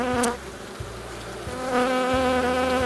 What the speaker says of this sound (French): les abeilles sont assez calmes